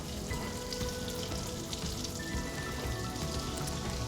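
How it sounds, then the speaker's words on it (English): Minced garlic with red pepper flakes and salt fries in melted butter, giving a dense, even sizzle that crackles steadily throughout at moderate volume with no talking. "Sizzle."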